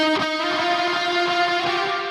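Sustained guitar part in a cyberpunk metal song, drenched in spaced-out reverb with some lows cut and highs boosted, ringing tones blurring into a continuous wash.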